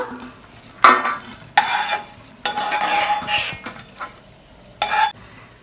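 Leaves dry roasting in a metal pan for idli podi, stirred in several distinct bursts of scraping and rustling with clinks of the spoon against the pan, close and clear, with quiet gaps between strokes.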